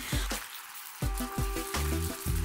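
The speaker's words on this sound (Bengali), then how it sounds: "আবার ভালোভাবে কষিয়ে নিচ্ছি যেন নারিকেল, মশলা, তেল, মাংস সব কিছু খুব ভালোভাবে মিশিয়ে যায়" Meat is fried and stirred over medium heat with coconut, spices and oil, a metal utensil clanking repeatedly against the pan in quick, uneven strikes that leave short ringing tones over a steady sizzle.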